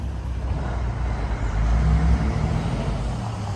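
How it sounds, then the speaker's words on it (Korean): Heavy traffic on Burrard Street in Vancouver, a steady, dense roar of cars and larger vehicles passing close by, with continuous low rumble and no talk. "바로 뒤쪽으로 차량 통행이 많은 버라드 스트리트입니다"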